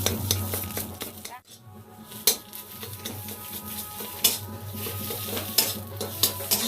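A ground leaf-spice paste, tempered with nigella seeds, fries in a wok with a soft sizzle. A spatula scrapes and clinks against the metal at irregular intervals, loud and close, and a brief voice can be heard.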